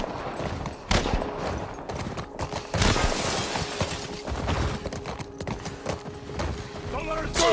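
A horse gallops in the video game The Last of Us Part 1, its rapid hoofbeats drumming through a chaotic scene of gunfire and impacts, with voices shouting over the action.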